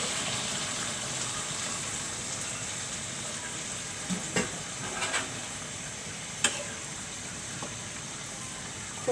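A little water is added to a pan of curry with boiled jackfruit seeds, hilsa and shrimp, producing a continuous hissing sizzle with a few small clinks and bubbling pops, close up and without speech.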